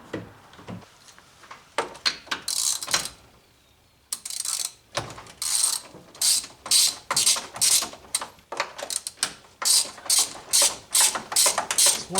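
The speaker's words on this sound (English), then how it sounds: "almost too loose for this thing to not ratchet" A ratchet wrench with a 13/16 socket working a spark plug on a Club Car golf cart, clicking close and loud in rapid bursts of pawl ticks separated by brief pauses.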